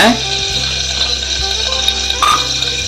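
Cashews frying in hot oil for a tempering, a steady close sizzle with a few faint stirring clinks and a brief burst near the end.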